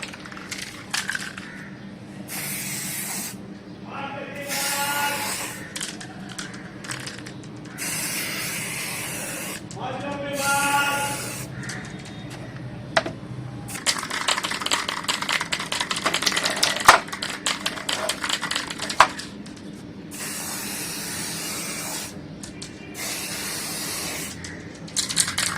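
Spray paint can coating a Tata Altroz wheel cap in repeated short hissing bursts of varying length, close and fairly loud, with pauses and faint clicks between strokes.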